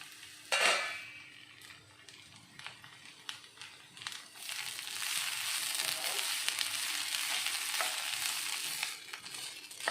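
Okra stir-fry (vendakka thoran) being stirred in a pan, with soft scraping and clinking of a utensil against the pan over a steady frying sizzle that grows fuller partway through, close by and with no talking.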